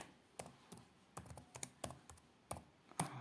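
Someone typing a message on a phone with rapid, irregular clicky taps in short bursts, close and fairly faint, with no voice.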